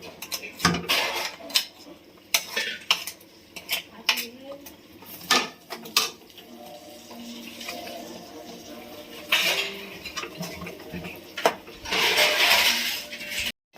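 A metal spoon scrapes stuck, caramelizing sugar from the sides of a pan while cow's-milk thabdi peda is cooked, producing irregular sharp scrapes and clinks, then a steadier stirring rasp toward the end.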